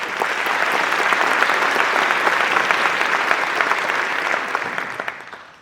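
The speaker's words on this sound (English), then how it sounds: "Let's applaud them as well." Dense, sustained applause from a large crowd at a community justice action gathering, loud and even throughout before tapering off at the very end.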